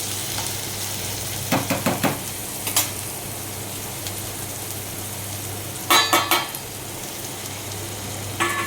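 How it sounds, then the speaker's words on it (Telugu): Onion and green chillies fry steadily in a pan under a constant sizzle, with a few short bursts of stirring scrapes, alone with no talk. "ఆనియన్ వేసుకొని కలుపుకొని పచ్చిమిర్చి కూడా వేసుకుంటున్నాను."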